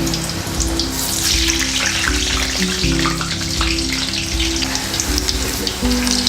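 Potatoes frying in oil for a Sindhi curry, giving a loud, continuous sizzle and crackle with no one speaking.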